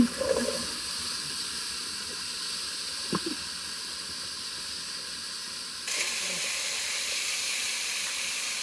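Peppers and onions sizzling in butter in a hot pan for jambalaya, a steady bright hiss with a short clatter near the start and a louder surge of sizzle partway through.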